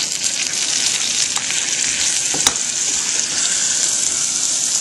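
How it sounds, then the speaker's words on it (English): Steady, loud sizzling hiss of butter hitting a very hot caramel pan while making pralined almonds, a continuous bright frying crackle with a few sharper pops. "You can hear it sizzling."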